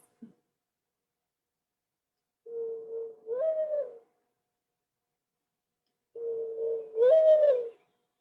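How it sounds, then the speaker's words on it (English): Mourning dove cooing in a San Mateo County park setting: two separate soft calls, each a low steady note rising into a brief swelling coo, with a quiet gap between them and no other sound. "Mourning doves, that is."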